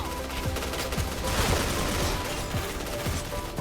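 Rapid, continuous gunfire from the first-person shooter game Point Blank, with dense overlapping bursts like submachine-gun fire, loud and steady throughout.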